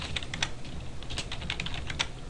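Quick bursts of typing on a computer keyboard while filling out an online form, the keystrokes close and fairly steady over a low background hum, with no voices.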